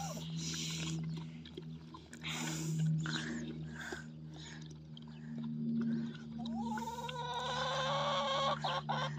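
Chickens cluck and squawk in a busy outdoor scene as a Kangal puppy scuffles with a hen, with a burst of wing flapping and agitated calls toward the end.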